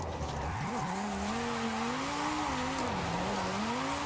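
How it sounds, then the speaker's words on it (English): Car drifting in Forza Horizon 5 with the handbrake held, a steady engine drone rising and falling in pitch under continuous tire squeal, loud and alone for the whole stretch. "If you hold down the handbrake though, like you can have some pretty big boy slides."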